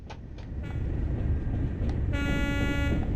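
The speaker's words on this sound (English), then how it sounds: "Sound the horn and it's a complete surprise." A train horn sounds from a locomotive in the Train Sim World game on the Tees Valley Line, a steady two-tone toot starting partway through over the rumbling engine and rail noise.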